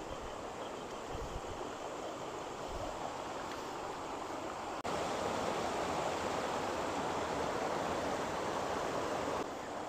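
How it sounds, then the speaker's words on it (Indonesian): The Ciampea river rushes through a dammed section in Bogor, a constant broadband roar of flowing water that is fairly loud and steady throughout, growing slightly stronger halfway through, with no voices heard. "Nah, jadi sumber air itu berasal dari sungai Ciampea yang di Bendung"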